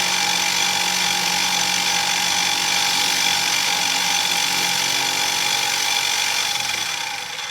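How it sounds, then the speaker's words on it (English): A milling machine cuts into an aluminum piece with a loud, continuous high-pitched whine and grinding that holds steady before easing slightly at the end, with no voices. "I just want to mill away everything that's not black Sharpie"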